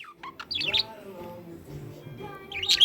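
A pet bird indoors lets out two short bursts of bright, high chirps, one near the start and one at the end, with quiet room noise between.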